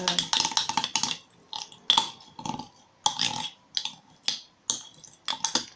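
Flexible lace paste mashed and scraped against the side of a small bowl, a series of short, crisp scraping and clicking strokes in an uneven rhythm, close and fairly quiet, with no talk.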